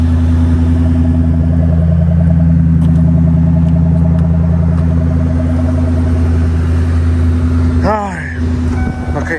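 Ford Mustang driving on a test drive, a steady loud engine drone and road rumble from inside the car, with a voice talking over it and a brief rising whine near the end.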